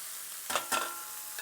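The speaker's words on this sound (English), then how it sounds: "We're going to add in some shallots." Shallots go into hot oil and butter, and two quick bursts of stirring and sizzling rise over a quiet, faint background hiss.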